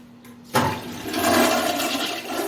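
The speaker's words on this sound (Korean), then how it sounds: "이렇게 물을 내리면은 네, 이렇게 시원한 소리가 나면서 내려가는 게 정상이에요" A toilet in an older home flushes with a sudden whoosh after a brief quiet moment, then water rushes and drains steadily and fairly loudly, easing slightly toward the end, with no speech.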